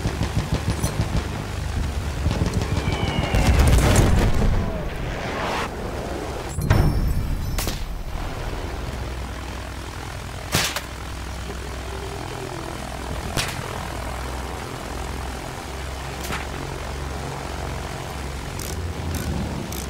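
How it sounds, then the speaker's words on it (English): Droning propeller warplane engine during a bombing run in the video game Battlefield 1, loud and continuous, with a couple of heavy explosion bursts early on and scattered sharp cracks later. "Let's see if I can't do any smarter bombing runs."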